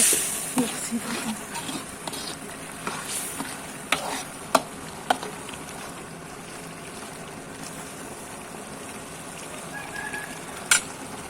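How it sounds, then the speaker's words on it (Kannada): Food frying in a pan during home cooking for a festival meal gives a constant low hiss with scattered crackles and occasional clinks of utensils, steady and close. "ಈಗ ಫ್ರೈ ಆಗ್ತಾ ಇದೆ"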